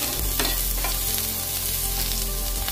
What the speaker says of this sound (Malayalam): ചെറിയുള്ളി പുളി എല്ലാം ചേർത്ത് കൊടുക്കാം ഇനി ഇത് നമുക്ക് ഒന്നിങ്ങനെ വഴറ്റിയെടുക്കാം ഒന്ന് റോസ്റ്റ് ചെയ്തെടുക്കാം